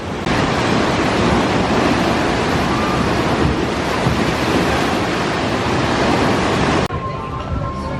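Loud, continuous rushing water roar from the River Rampage rapids ride, broadband and unbroken with wind noise on the microphone, cutting slightly near the end.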